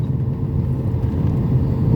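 Heavy road traffic flows past in a dense, steady rumble of car and vehicle engines, loud and close, with no clear individual passes and no voices.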